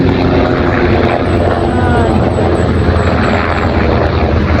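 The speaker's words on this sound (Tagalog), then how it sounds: "bali may dumaan dito na helicopter sa amin" Helicopter flying very close over an outdoor cooking area, a loud steady rotor and engine roar filling the whole stretch without a break.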